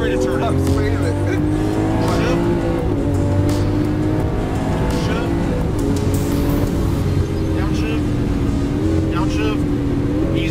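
A Lamborghini Aventador accelerating around a race track gives a loud, sustained engine roar with rising and falling pitch as it shifts and takes corners. Someone talks through it from inside the car.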